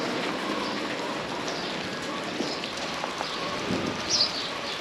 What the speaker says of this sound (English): it has now started raining here on the farm